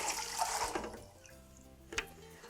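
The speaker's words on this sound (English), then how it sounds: "Next, I'm going to add 8 cups of water to a large pot." Water pouring into a large cooking pot for a pasta, bean and vegetable soup, a short splashing gush that fades and then gives a brief final splash.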